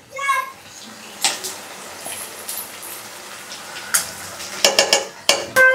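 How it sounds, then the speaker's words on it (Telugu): Spoon stirring Andhra-style gongura mutton curry in a pan, with intermittent scraping and clinks against the metal, close and moderately loud, with a faint sizzle underneath. "బాగా కలపాలి ముక్క పట్టేటట్టు."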